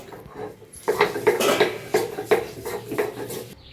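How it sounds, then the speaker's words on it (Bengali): Spices are ground on a stone slab (sil) in a series of rhythmic scraping strokes, about eight close, gritty pushes in quick succession, with no talking. "এদিকে দেখো শিলে আমি বাটা শুরু করেছি"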